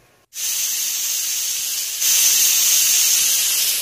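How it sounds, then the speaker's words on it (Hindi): A pressure cooker whistle releases steam in a loud, continuous hiss while jackfruit curry cooks on a low flame; the hiss starts abruptly, holds steady and grows slightly louder partway through, with no talk over it. "लगभग तीन से चार विसल आपको इसमें लगाना है"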